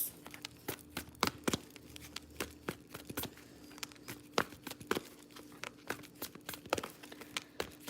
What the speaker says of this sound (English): Okay, I'm going to shuffle 2 more times.